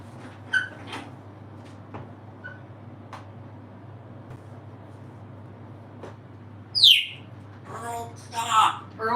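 A pet cockatoo lets out a few sharp chirps and a loud rising squawk near the end, with quieter calls scattered between, over a steady low room hum.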